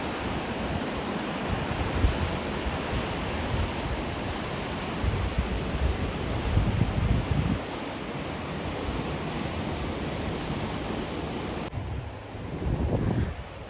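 Ocean waves crash and surge steadily against the rocks below Two Lovers Point, Guam, a loud, continuous roar with swelling bursts of surf and some wind buffeting.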